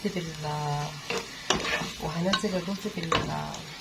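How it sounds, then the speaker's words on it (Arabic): Onion sautéing in a pot for one-pot koshari: a soft sizzle under repeated scraping and stirring strokes, with squeaky, tonal scrapes that come in short bursts. "تشوح البصلايه، يعني مش تاخد لون"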